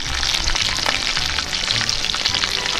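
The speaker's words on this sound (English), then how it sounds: "Got my spatula. Yeah, I mash this stuff up" Diskata cooks outdoors on a disk from SW Disks while a spatula mashes and stirs it, giving a loud continuous sizzle with repeated scraping and pressing strokes close by.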